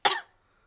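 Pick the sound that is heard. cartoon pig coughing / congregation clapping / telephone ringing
cartoon pig coughing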